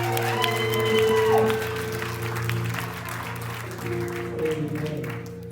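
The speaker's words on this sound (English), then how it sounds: "Clap your hands like you just won the lottery." A church congregation claps their hands during a service, a dense spread of clapping over sustained organ or keyboard chords that swells and eases.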